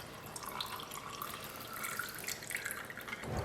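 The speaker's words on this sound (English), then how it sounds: "We're going to pour the gin and lemonade and all of that." Gin and lemonade pour into a glass for a cocktail, a soft continuous trickling and splashing that lasts throughout.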